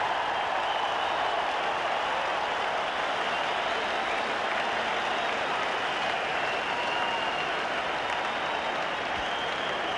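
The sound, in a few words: cricket crowd cheering and applauding a big six hit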